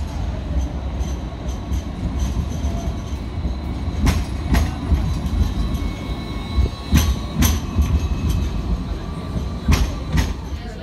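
Interior of a train travelling from Central to Chinatown, a steady rolling rumble with rail clatter and several sharp wheel squeals or clicks, no talking.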